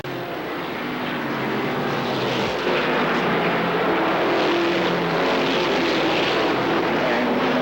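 Loud continuous V8 engine roar of ARCA Supercar Series race cars circling Kil Kare Speedway in 1995, a dense droning wash that swells slightly and holds without pause.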